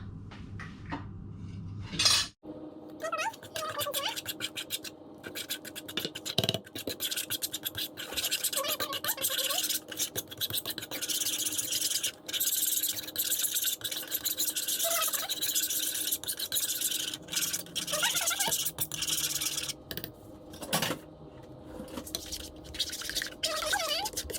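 Spoon scraping and clinking in a bowl while stirring suman ingredients with coconut milk and vanilla, steady scratchy strokes with occasional sharp taps, close and moderately loud, little talk.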